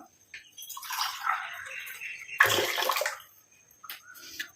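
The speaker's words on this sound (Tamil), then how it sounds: "1 டம்ளர் அளவுக்கு தண்ணி சேர்த்துக்கலாம்." About a tumbler of water pours into a pan in a short splashy stream, pauses, then a second louder gush rushes in before trailing off into drips.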